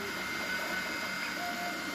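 A 3D printer runs with a steady, quiet motor whine and faint shifting tones of its moving head, close by and continuous, with no talk.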